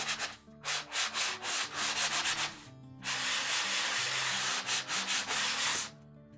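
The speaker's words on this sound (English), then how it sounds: "take some sandpaper and just do a light sanding over the back" Sandpaper is rubbed by hand across the back of a Dollar Tree wooden sign, making repeated close, raspy scratching strokes in two bursts with a short pause between them.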